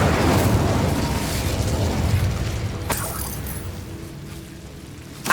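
A roaring fiery blast from the Incendio spell in the game Hogwarts Legacy opens loud and broad, then decays with crackling bursts and a sharp crack near the three-second mark.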